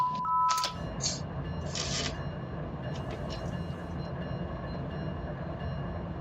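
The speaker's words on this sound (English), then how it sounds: "Yeah, Otto's got a train lined against me." Freight train rumbling along in the Run8 train simulator game, a steady low mechanical roll throughout with a few brief clicks and clatters near the start, no voices.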